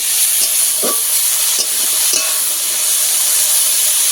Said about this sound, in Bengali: লবণ দিয়ে ভালো করে একটু ভেজে নেব নমরক নেড়ে চেড়ে একটু ভালো করে ভেজে নেব